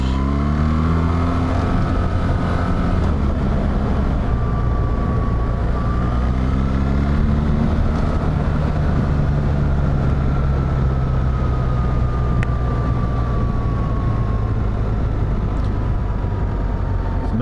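A BMW R1300GS adventure motorcycle with an automated shift gearbox is ridden along a road in Kent, its engine droning loudly and steadily with heavy wind rush and subtle pitch changes as it shifts.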